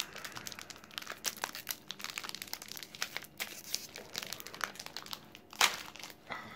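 Crinkly plastic packaging of a Japanese snack packet rustles and crackles close by in quick, irregular bursts as it is twisted and pulled at, with one sharper crinkle near the end.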